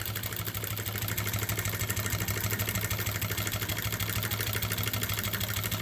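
A small toy engine runs steadily at a show, giving off a constant low hum with a quick regular pulsing chug, close and unbroken, with no voices.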